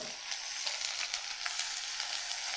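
Chopped onion with ginger-garlic paste and cumin paste fries in a pan for a Bengali rohu fish curry, giving a steady, dense close-up sizzle that runs throughout with small crackling pops and no voices.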